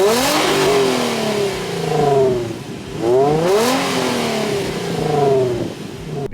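A 2004 Infiniti G35 coupe engine revs up and falls back in repeated sweeping surges, three clear rises and drops, fairly close and steady in volume, with no talking.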